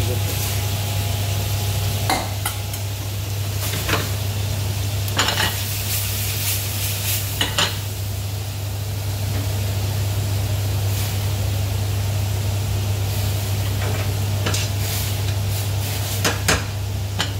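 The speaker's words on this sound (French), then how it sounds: "je vais faire toaster la pâte fraîche" Fresh tagliatelle toasts in a pan like a risotto, a steady close sizzle with a low constant hum, broken by repeated scraping strokes of a utensil stirring every couple of seconds.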